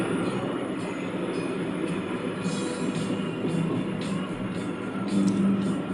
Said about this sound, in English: With my luggage in tow, I disembarked the train and entered the station with Axel following closely behind.